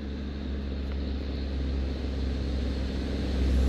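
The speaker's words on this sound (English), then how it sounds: "Transport truck just went by." A transport truck passes on a busy road, a steady broad rumble with low engine drone that swells slightly toward the end, heard up close outdoors with no talking.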